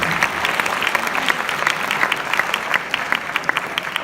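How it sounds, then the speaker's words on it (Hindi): Audience at a Pakistani poetry mushaira breaks into dense, sustained applause, many hands clapping together steadily at close range, with faint crowd murmur beneath. "एक दफ़ा आप अपने लिए भी तालियां बजाएं"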